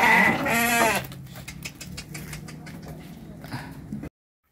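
Sheep bleat in a run-down livestock pen on a farm in Jatitujuh, Majalengka, with a loud, wavering bleat opening the clip, then quieter animal calls and shuffling noises over a low background hum.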